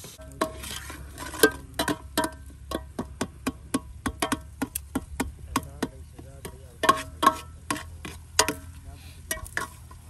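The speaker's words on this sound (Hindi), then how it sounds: "ये जी हमारा मसाला बन रहा है।" Masala cooking in a pot over a wood fire, repeated sharp scraping and clanking of a stirring utensil at an uneven rhythm over a low steady background, close and fairly loud.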